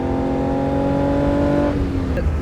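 A 1971 Fiat Dino 2400 Spider engine hums steadily up close, its tone holding then dropping away as the revs fall near the end.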